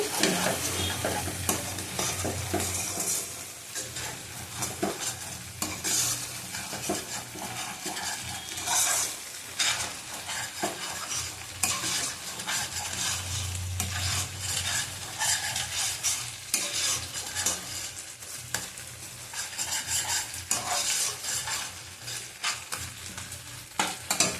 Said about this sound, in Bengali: ভালো করে কষানো হয়ে গেছে।